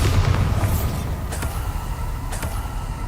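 Bombarda spell explosion in Hogwarts Legacy amid combat: a heavy low boom rolls at the start, then two sharper crackling blasts punch through around the middle and late, over a constant rumbling bed.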